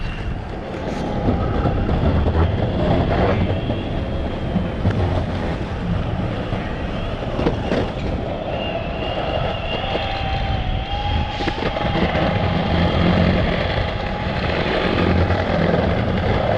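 A continuous loud mechanical roar from a Boosted electric skateboard motor that is locking up, with a grinding, rumbling texture and faint whining tones, steady throughout without pauses.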